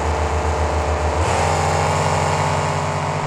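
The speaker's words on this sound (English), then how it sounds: "Great start from both trucks." Loud monster truck engines roar together, then abruptly shift pitch as the trucks launch and accelerate in a race, steady and close throughout.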